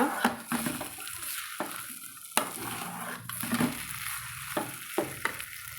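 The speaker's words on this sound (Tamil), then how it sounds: "இன்னும் ஒரு ரெண்டு மூணு தடவை நம்ம இந்த மாதிரி மாற்றி மாற்றி திருப்பி போட்டு வதக்கணும்" Kozhukattai dough sautéed and flipped in a pan, soft sizzling broken by repeated clacks and scrapes of a spatula turning the dough, close and fairly quiet with no voices.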